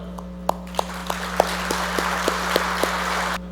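An audience at a Kodak Canada farewell gathering applauds Kodak employees, a moderate patter punctuated by a few sharper, evenly spaced claps over a constant low hum, cutting off abruptly.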